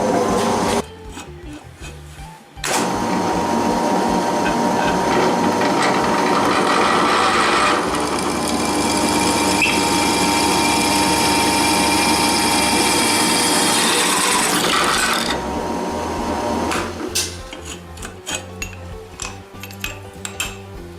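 A restored drill press bores into wood with a loud, steady mechanical whir that runs for about twelve seconds, then drops to quieter scattered clicks and clatter as the bit stops.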